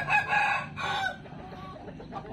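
A young pullet hen weighing about 1.9 kg that has not yet started laying gives two loud, close, squawking clucks in quick succession, then fades into quieter farmyard background.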